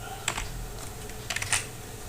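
A few quick keystrokes on a computer keyboard while typing CSS code, light clicks in two small clusters over a steady low room hum.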